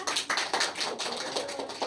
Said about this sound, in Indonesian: Tepuk tangan untuk Ara.